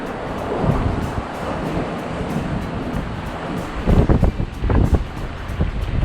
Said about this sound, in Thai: เพราะว่าลมแรงมากไม่ไหว